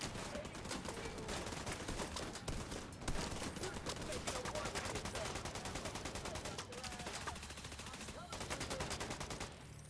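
Sustained automatic gunfire in the shooter game The Division 2, rapid overlapping bursts and rattling volleys running almost continuously, fairly close, with a player's voice heard at times.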